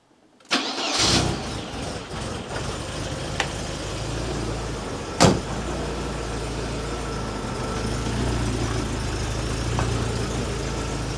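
A Porsche 924 engine cranks briefly, catches, and settles into a steady close idle, with a sharp click partway through and a low, even rumble continuing to the end.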